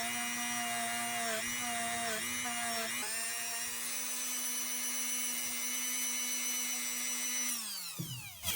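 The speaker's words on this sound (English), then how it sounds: "We're going to take the wire brush and get all this rust off of here on the sides." A powered wire brush scrubs rust off the sides of a knife blade, giving a steady high motor whine with brief dips early on. Near the end it winds down and stops.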